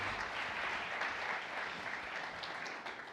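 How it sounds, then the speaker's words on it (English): Steady audience applause at the Lenovo Transform 2017 keynote, a dense continuous wash of clapping from a large crowd throughout, fairly even and sustained with no break. "So how about a big round of applause for YY?"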